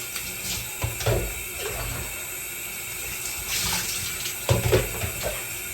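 Running water pours steadily over a dog with thick fur, rinsing out shampoo during a bath, a continuous faucet-like splash with a few brief louder surges and bumps, close by and no one talking.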